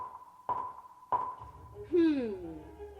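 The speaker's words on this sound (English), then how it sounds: "You just hear 3 beeps." Three short electronic cue beeps sound at a steady pitch before an anime voice-acting audition take at a convention masterclass, evenly spaced, with a voice starting to speak right after the third.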